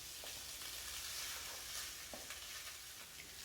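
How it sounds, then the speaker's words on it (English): Butter sizzles in a frying pan with a steady, bright crackling hiss and a few faint clicks of stirring, fairly quiet and without talk. "I'm going to add some nice butter into this frying pan"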